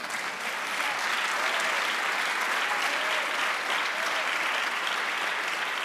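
A church congregation applauds the Lord during a Spanish-language sermon, a dense, steady wash of clapping that holds loud and even throughout with no break.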